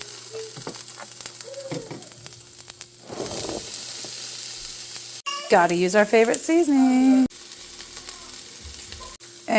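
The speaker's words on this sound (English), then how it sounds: "While our peppers are sizzling, let's go chop some onions." Diced peppers sizzle in hot oil in a pan, a steady close crackle running under a person talking about seasoning.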